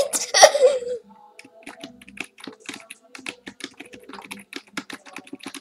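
Rapid computer keyboard typing clicks away in an uneven patter, close and fairly quiet, following a brief burst of a voice at the start.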